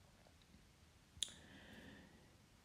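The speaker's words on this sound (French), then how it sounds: "Je vais cliquer sur cet onglet Create" A single sharp computer mouse click sounds once, quiet and close, against a faint hush of room tone.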